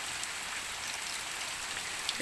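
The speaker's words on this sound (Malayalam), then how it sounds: "മഴ തുടങ്ങി 2 ദിവസങ്ങളായി മഴ" Steady rain falling during a monsoon spell, a soft even hiss of drops on surfaces with no talk, continuous and fairly faint throughout.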